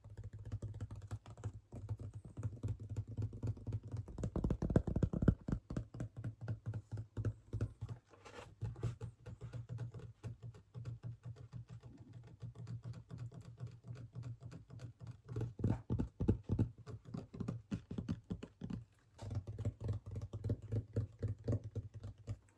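Fingertips tap rapidly on a vinyl record, producing a dense, close, dry patter of light clicks that continues in bursts with brief pauses, with no voice over it.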